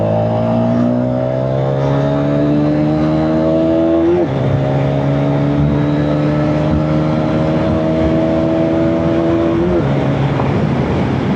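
Hero Xtreme 250R motorcycle ridden hard, engine revving up through the gears in two long rising pulls, each ending in a sharp gear-change drop, loud and close with wind rush.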